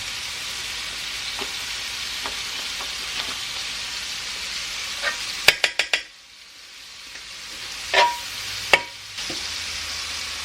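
Butter sizzles on a hot skillet before a batch of pancakes, a steady bright hiss broken by a few clinks and scrapes of a utensil stirring, then the sizzle briefly dips and resumes.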